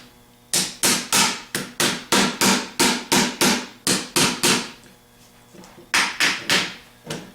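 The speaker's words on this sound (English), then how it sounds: "Might have to take a few taps." Alternator parts for a 4G alternator rebuild tapped into place with a hammer, a steady series of about fifteen sharp, loud knocks, a brief pause, then a few more close strikes.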